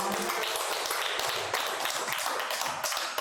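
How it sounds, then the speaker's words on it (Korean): Seminar audience gives a lecturer a big round of applause. Dense, continuous clapping fills the room at close range with a few sharper individual claps standing out, and faint voices mixed in. "장인규 소장님께 큰 박수 다시 한번 부탁드리겠습니다"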